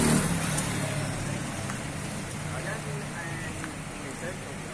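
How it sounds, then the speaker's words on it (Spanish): Steady rain falls over the Siloé neighborhood of Cali on a Sunday afternoon. It makes a constant broadband hiss, with low city traffic rumbling underneath and faint voices in the background. "la lluvia acá en Siloé, se intensifica a estas horas de la tarde"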